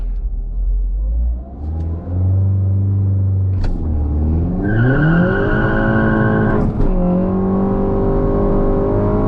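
A turbocharged 1.8-litre Mk2 Volkswagen GTI revs up and launches hard for a quarter-mile run, its pitch climbing through the gears with a gear-change dip, loud and close with no talking.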